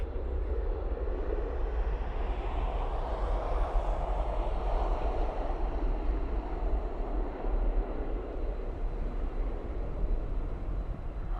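A Ryanair jet departs for London Gatwick, its engines producing a sustained, fairly loud broadband roar with a heavy low rumble that holds steady before easing slightly, with no voices.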